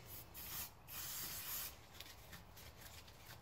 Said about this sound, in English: I'll just spray it straight on.